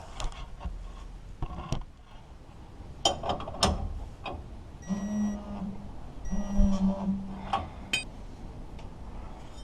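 A ratchet wrench tightening bolts on a Chevy S10 rear axle during an 8.8 axle swap makes scattered metallic clicks and clinks, with short bursts of quick ratcheting, fairly close and fairly quiet.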